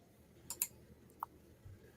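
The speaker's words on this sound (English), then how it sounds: "your keyboard is really noisy" A noisy computer keyboard gives a few sharp, isolated clicks, two close together and then a single one, over a quiet room background.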